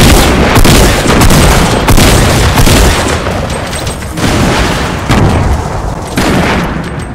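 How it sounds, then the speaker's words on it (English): Loud, continuous Fortnite battle royale combat close up: booming grenade explosions overlap with dense, rattling gunfire in waves, barely easing between bursts. "Watch out, throwing grenades."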